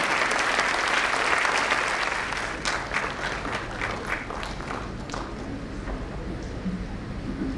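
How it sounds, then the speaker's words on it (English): A school annual day audience claps in a big round of applause, a dense, loud wash of many hands that carries on steadily throughout without any voices. "can we all put our hands together in a big round of applause to Ms. Kiran?"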